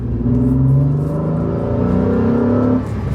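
A Renault Clio V6 engine revs up close, a loud, rising and falling mechanical howl with strong engine tones that holds for a few seconds before easing off at the end.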